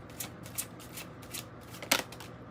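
Tarot cards being shuffled by hand in a quiet room, soft papery riffles and flicks repeating in short bursts, with one sharper snap near the end.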